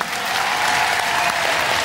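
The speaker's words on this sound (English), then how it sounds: "Give them a round of applause, ladies and gentlemen" A Robot Wars studio audience applauds a departing competitor, a short burst of thick, steady clapping from a crowd.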